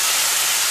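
Chicken wings for hot wings fry in hot oil with a loud, steady, close hiss that continues without a break for under a second.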